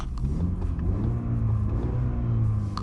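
A 2020 BMW 330i's engine and exhaust rev from inside the cabin, a steady low rumble swelling and easing across a few seconds, with no talking.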